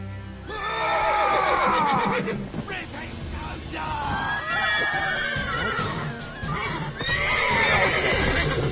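Horses in a PS5 video game neigh and whinny loudly several times over hoofbeats and battle noise, while game characters shout and talk.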